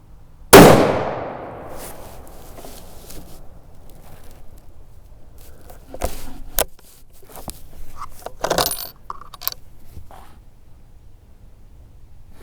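A single sharp rifle shot from a Ruger M77 in .243 Winchester firing Reloader 15 hunting loads cracks loud and close, then rings out and decays, followed by faint clicks and rattles of handling, with no talk.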